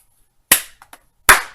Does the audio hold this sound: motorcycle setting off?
no